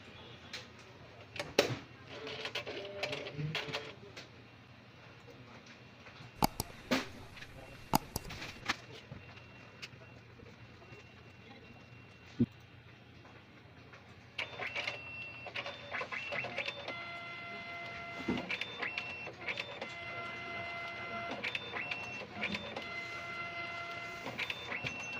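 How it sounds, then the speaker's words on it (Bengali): A Zebra ZXP Series 3 card printer runs a card through, giving a steady mechanical whir and clicks, with a busier rhythmic stretch of motor noise and tones in the second half, moderately loud. "আমাদের কিন্তু প্রিন্ট হচ্ছে, দেখেন এই যে প্রিন্ট হচ্ছে।"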